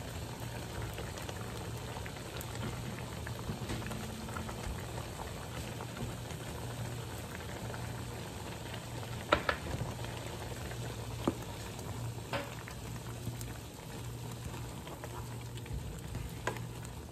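A lamb or beef stew simmers quietly in a covered pot, giving a steady low bubbling with faint sizzling and occasional small pops, close by and with no talking.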